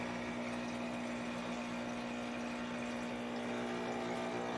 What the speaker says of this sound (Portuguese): A bomba fazendo um pouquinho de barulho, mas é normal.